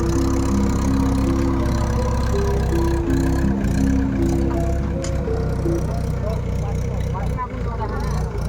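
A tractor engine idles steadily and loudly close by, a continuous low rumble running through the whole stretch with faint background activity.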